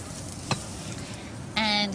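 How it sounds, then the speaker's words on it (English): Garlic hits hot peanut oil in a wok for a chicken and snake bean stir fry, giving a steady sizzle with a brief clatter and a louder burst of frying near the end. "And you hear that sizzle."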